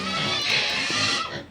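A pig oinks and grunts in a short, loud burst close by, with no talking.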